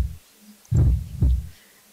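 A heartbeat sound effect from a visual novel video game, DRAMAtical Murder re:connect, gives two heavy, close, low thuds in a quick lub-dub rhythm, with a faint hum between them.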